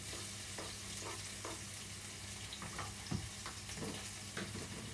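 Onion and chili fry in a pan and are stirred with a wooden spoon, giving a soft, steady sizzle with light knocks and scrapes from the spoon at intervals.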